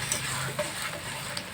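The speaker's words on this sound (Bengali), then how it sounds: "এখন কচুর যে মিশ্রণটি করে রেখেছিল এগুলো অল্প অল্প করে গরম তেলের মধ্যে ছেড়ে দিচ্ছে।" Taro (kochu) paste is dropped bit by bit into hot oil, giving a steady, close sizzle with faint stirring scrapes and small pops, no talk.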